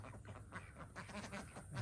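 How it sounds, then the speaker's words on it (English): Ducks quacking out in a backyard garden area near a coop, a loose run of short nasal calls at moderate distance over low outdoor background noise, with no talking. "The ducks out in the garden area again."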